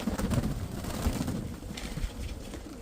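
Pigeons cooing low and steady in open air, a soft continuous murmur of several birds close by with faint background rumble.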